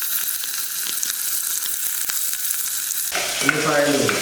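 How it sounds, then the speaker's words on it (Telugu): Cumin and chopped onions fry in hot oil for a dry meat curry, a dense close crackling sizzle with scraping stirs, changing to a louder, fuller bubbling hiss as the onions go in. "కాగుతున్నటువంటి నూనెలో కొద్దిగా జీలకర్ర, తర్వాత కట్ చేసి పెట్టుకున్నటువంటి"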